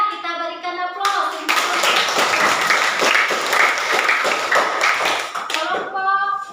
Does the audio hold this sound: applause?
yes